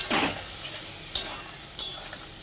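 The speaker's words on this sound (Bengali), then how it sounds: "এবার এটা ভালো করে নাড়বো, ভালো করে নাড়বো।" A poppy seed posto dish is stirred in a pan, giving a soft sizzling wash with a few crisp spoon clicks against the metal. Close and fairly quiet, with no talk.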